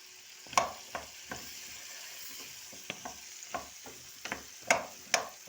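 Frozen mushrooms fry in a pan with a steady sizzle, broken by about a dozen sharp scrapes and clatters of a utensil stirring at irregular intervals. The sound is close and moderately loud, with no voices.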